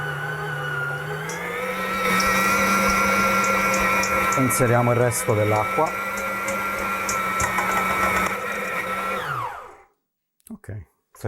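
An Aicook MK37 or Kealive MK55 planetary stand mixer kneads pizza dough with a loud, steady motor whine and rattling hook knocks, a voice speaking over it, before the motor winds down and stops near the end.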